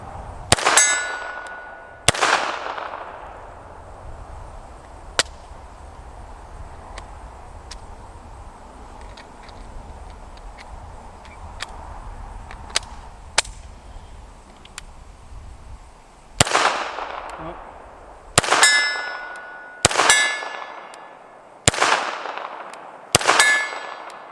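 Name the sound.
Canik TP9 pistol rounds hitting steel silhouette target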